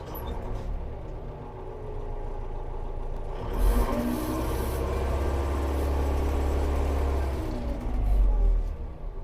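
A DTZ 5504NK tractor diesel pulls away in second gear, a low rumbling engine that swells as it moves off, with throttle surges mid-clip and near the end, alone without talk.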